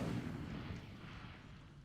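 Fiery whoosh and rumble of an Incendio fire spell cast in a Harry Potter video game set in the Forbidden Forest, a loud burst at the start that fades into a sustained low roar.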